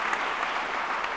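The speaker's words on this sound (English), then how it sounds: "Do I need to ask for a round of applause?" Audience applause at a business school competition grand finale, a dense, steady clapping that holds for just over a second with no break or voices.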